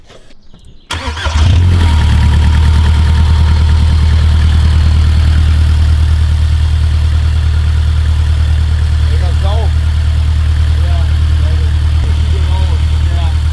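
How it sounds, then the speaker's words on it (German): A motorcycle engine burning WD-40 as fuel starts with a low rumble, then settles into a steady, loud idle that holds for the rest of the clip, with a faint voice over it. "Mal schauen, ob der Motor damit auch läuft."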